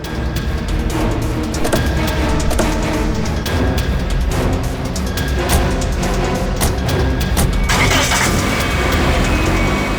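A car engine runs loudly and close, rumbling steadily as the vehicle drives off, with a brighter rise in noise near the end.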